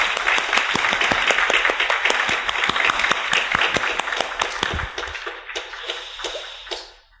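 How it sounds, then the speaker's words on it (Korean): A church congregation claps together during a morning service: a loud, dense burst of many hands that holds steady for several seconds, then thins out and fades away. "박수 한번 보내주시면 고맙겠습니다"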